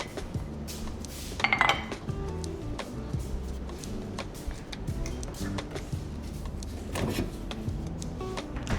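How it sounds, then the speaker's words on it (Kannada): A coffee mug and dishes clink and knock in a home kitchen while coffee is being made, with irregular clatter over a steady low background, close and moderately loud. "ತಡಿ, ಕಾಫಿ ಮಗ್ ತಗೋತೀನಿ"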